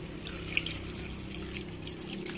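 Water poured into a cooking pot for egg soup, a soft continuous trickle that runs steadily at moderate level throughout, with no voices over it.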